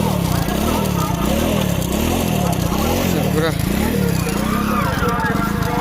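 A blue motorcycle's engine runs with a steady, throbbing pulse and a few rising revs at a village fair in Purulia, loud and close, while people talk nearby.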